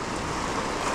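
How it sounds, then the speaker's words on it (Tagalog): Big ocean waves wash steadily off the Palawan coast during ultralight casting, a loud, continuous broadband rush of surf and water with no talking. "Malalaking alon."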